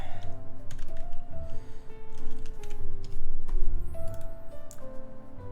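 A quiet computer keyboard is typed on in a room with a steady low hum, producing soft, rapid, irregular clicks throughout.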